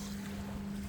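Low steady engine drone of a boat on the water near beach bluffs, with wind rushing across the microphone, continuous and unbroken, no talking.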